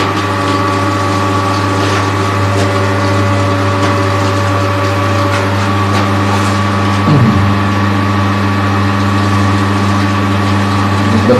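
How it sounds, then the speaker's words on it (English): A pool pump runs smoothly, giving a loud, steady, even hum with a constant low drone that holds unchanged from start to finish, with no voices. "The pump is running smooth,"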